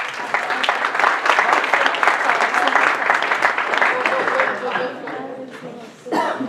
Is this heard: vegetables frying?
no